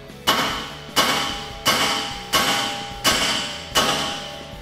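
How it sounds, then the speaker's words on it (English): Six heavy, evenly spaced hammer blows ring against a steel spindle on a 2019-2022 RAM 1500, each a sharp clang that decays slowly before the next strike. "take our hammer and give the top of our spindle a couple taps"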